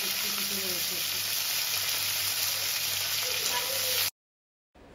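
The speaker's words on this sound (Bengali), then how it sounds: "এবার এইটা মা ভেজে নিচ্ছে।" Panch phoron, bay leaves and dried red chillies frying in hot mustard oil, a close, steady crackling sizzle with a low hum beneath, cutting off abruptly near the end before a faint return.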